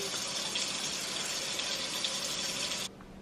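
Steady rush of running water from a tap, loud and continuous as something is washed, cutting off abruptly near the end.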